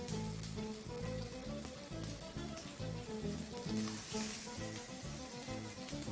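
Homemade breakfast burger patties sizzle in a frying pan, a steady close crackle that runs throughout under rhythmic background music.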